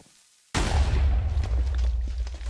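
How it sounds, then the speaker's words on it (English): A Minecraft TNT cannon in a competitive match fires with a sudden loud boom after a near-silent moment, followed by a rumbling, crackling tail of blast debris. "it looks like he's just going to go with the dry cannon here"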